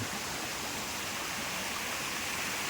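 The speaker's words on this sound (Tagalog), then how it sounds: "Falls. This is the Naiinom falls." Naiinom Falls roars as a steady, even rush of falling water in a forest, a constant broadband hiss with no other sounds.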